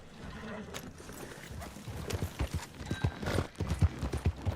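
Horse hooves clip-clop in a video game, a steady run of soft, evenly spaced thuds that starts low and grows louder and more regular partway through, with no talk over it.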